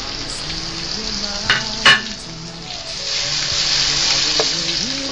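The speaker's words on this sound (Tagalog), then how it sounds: "Pag nagisa natin yung mga sibuyas kamatis" Onions and tomatoes sauté in a pan with a steady, close sizzle, joined by a couple of louder stirring scrapes near the middle as the frying swells slightly toward the end.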